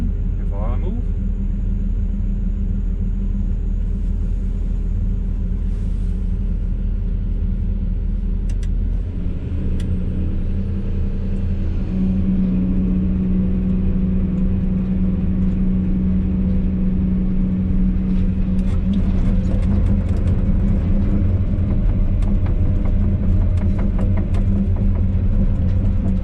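A tracked vehicle drives toward an edge and turns, its engine a loud, constant low rumble that shifts pitch and grows rougher partway through as it moves and maneuvers nearby.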